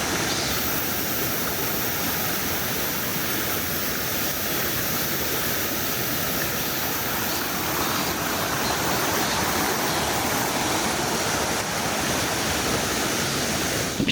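A mountain valley stream rushes steadily at Yumyeongsan, a constant broadband wash of flowing water close by, loud and unbroken throughout with no voices.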